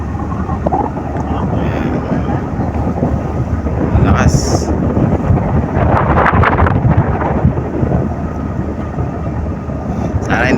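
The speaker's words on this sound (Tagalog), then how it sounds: "grabe ang hangin ang lakas ng hangin" Strong wind roars and buffets continuously in open air at sea during a typhoon, a loud broadband rush with gusting surges and no clear speech.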